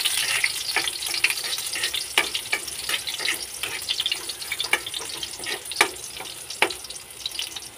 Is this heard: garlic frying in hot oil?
yes